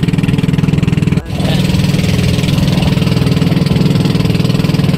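A boat's motor runs loud and close during a ride, a steady pulsing mechanical drone with a rapid throbbing rhythm and one brief dip before it carries on.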